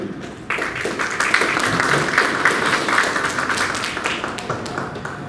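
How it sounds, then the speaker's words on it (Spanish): An audience at a school parents' talk breaks into loud, sustained applause to welcome a speaker, a dense steady clatter of many hands clapping close by throughout. "recibamos con fuertes palmas al magíster Gerardo César de la Vega Romero"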